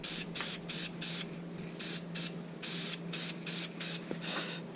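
An aerosol spray can hisses in quick repeated bursts of short and longer blasts as paint goes onto a bass boat, close and loud against a quiet background.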